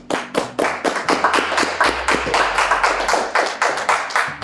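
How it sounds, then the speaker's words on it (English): A small group claps in a close, loud, fairly rhythmic round of applause, with sharp individual hand claps repeating steadily throughout and no talk. "Round of applause."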